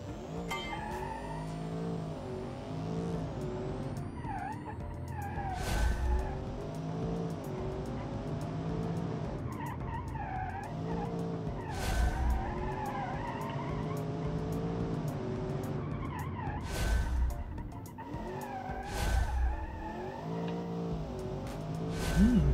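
A twin-turbo 5.5-liter V8 car making 529 horsepower drives hard, its engine note rising and falling steadily with repeated tire squeals and skids over the run, loud and close with no talking.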